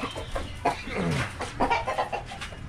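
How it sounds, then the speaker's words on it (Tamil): A fighting rooster kept on a terrace clucks nearby in short, irregular bursts. Steady background noise sits under the calls. "நம்மக்கிட்ட இந்த தும்மர் சேவல் இருக்குது,"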